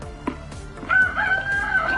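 Chicken heard close up: a short, loud, drawn-out crowing call rises after brief clucking, with no talk over it.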